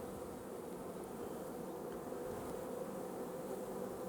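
A dense, steady hum of many honey bees buzzing close by while a package of bees is installed in a Warré hive, continuous and even throughout with no talking.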